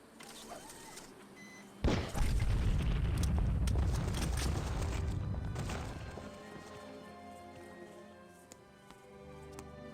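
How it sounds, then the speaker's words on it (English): An explosion in the video game Outcast 1.1 hits with a sudden loud blast, followed by a long deep rumble of falling debris that fades over several seconds. "That was some explosion, wasn't it?"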